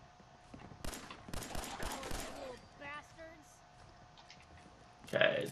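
Gunfire in Fallout 4 cracks out in several bursts, loud shots packed close in the first half, and a short burst returns near the end, all over a steady game background.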